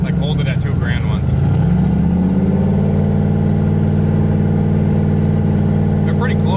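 A car engine in a tuning shop revs up from idle and holds a steady mid-range hum at about 2000 RPM, loud and close, while people talk over it.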